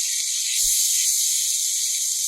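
Ginger paste sizzles steadily while being sautéed for a home-style mutton curry, a constant bright hiss with no voices.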